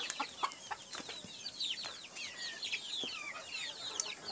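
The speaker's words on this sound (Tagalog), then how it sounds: "papakainin din yung mga sisiw natin" Farm chickens cluck and chirp busily during feeding, with many overlapping calls and small taps from nearby birds, all fairly faint.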